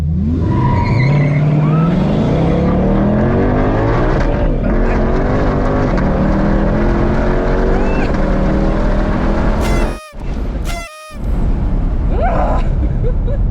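A Shelby Super Snake accelerates hard on a track, its loud engine note climbing steadily in pitch through repeated rising sweeps, with two brief cuts in the sound near the end.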